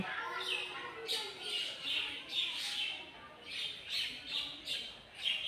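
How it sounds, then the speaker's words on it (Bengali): Birds squawking and chirping at a shrine in Badurgachha, with repeated loud calls coming at a regular rhythm close by over a quiet outdoor background. "দেখতেই পাচ্ছেন কি সুন্দর মনোরম পরিবেশ, পাখির কলরবে মুখরিত।"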